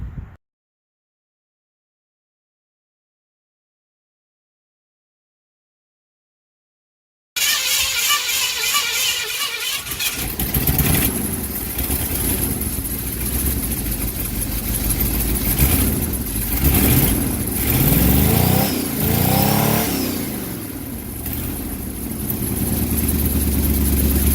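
A carbureted engine with an accelerator pump linkage, silent at first, then cranks and fires up at close range before settling into a steady, loud idle with some rough revving.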